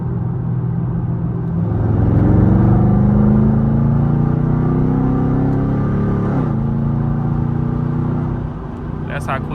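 A Chevrolet Camaro SS accelerates using paddle shifters, its engine note climbing steadily and loudly, dropping briefly at a shift and then pulling up again.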